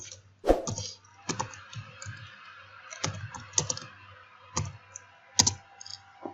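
Typing on a computer keyboard while writing in MS Word: sparse, irregular clicks and a few sharper key strikes, close and fairly quiet, with no talk.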